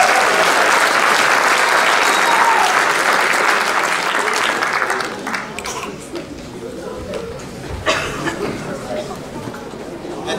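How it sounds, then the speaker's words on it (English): Audience applause at a high school athletic banquet for the cross country teams, loud dense clapping that fills the hall for about five seconds, then thins into scattered claps and crowd chatter as people talk. "give them a round of applause."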